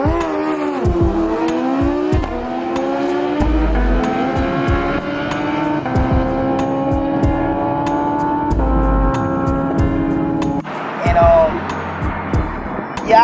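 Engine note of a motorcycle running a quarter-mile drag race in the Dirty 30 class at Indianapolis, rising in pitch through successive gear shifts, loud and sustained with crowd and track noise around it and voices over the top.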